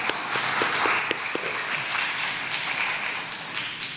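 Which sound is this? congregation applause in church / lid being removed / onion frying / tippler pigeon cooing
congregation applause in church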